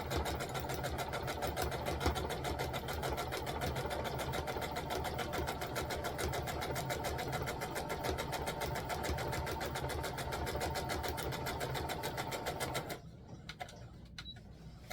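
A sewing machine stitches a lined valance in a fast, even mechanical whir that runs steadily for most of the time, then stops, leaving a few faint clicks in near silence.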